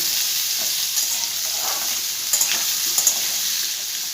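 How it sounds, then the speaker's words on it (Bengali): Potatoes fry in hot oil for a Bengali fish-oil chorchori, giving a continuous close, dense sizzle with occasional stirring clinks and scrapes. "এই তেলের মধ্যে আমি আলুগুলো দিয়ে দেবো সবার প্রথম আলুগুলোকে আগে আমি একটু ভালো করে ভেজে নেব"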